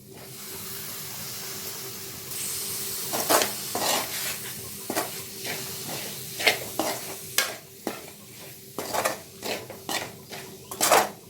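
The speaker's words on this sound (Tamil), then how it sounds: "நல்லா வதக்கிக்குவேன். தக்காளி வெங்காயம் நல்லா வதங்கி பேஸ்ட்டாக வரணும்." Tomato and onion sautéing in a pan on low flame for a Chennai vada curry: steady close sizzle with a run of sharp clinks as a spoon stirs and scrapes, alone without talk.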